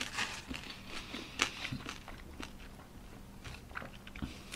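Close, crisp crunching of food being bitten and chewed, repeated irregular crackly bites with no talking.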